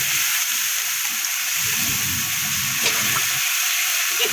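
Water splashes into spice masala frying in a pan, giving a steady wet sizzle and bubbling hiss that runs evenly and loudly throughout with no speech.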